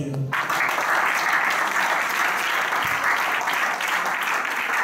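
A church congregation applauding: dense, steady clapping from a crowd that starts abruptly and keeps going evenly at a strong level.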